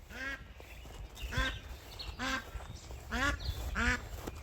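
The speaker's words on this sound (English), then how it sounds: "Where my ducks at?" Ducks quack in repeated bursts at breakfast time on a farm during morning feeding chores, five loud, close calls spaced about a second apart over faint background noise.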